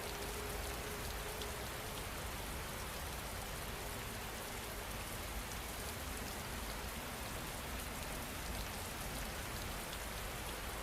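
Steady, dense rain falls without a break, a constant close hiss of drops pattering on surfaces with no voices or other sounds over it.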